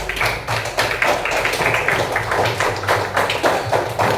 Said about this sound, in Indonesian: Kita berikan aplaus untuk temannya.